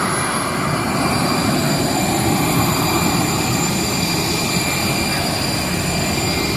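Loud, continuous roar of Boeing 747 jet engines at Belfast International Airport, steady and close, a dense rumbling wash with a faint high whine on top.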